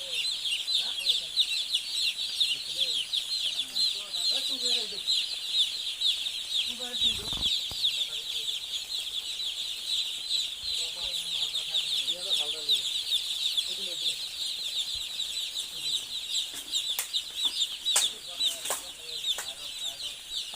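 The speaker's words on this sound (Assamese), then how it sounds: "এতিয়া অলপ আগত 1680টা মুৰ্গী ইতিমধ্যে আহি পালে।" Newly arrived broiler chicks, around 1680 of them, chirp constantly in a poultry shed, a dense high-pitched peeping chorus that fills the space, with a few low voices murmuring faintly underneath.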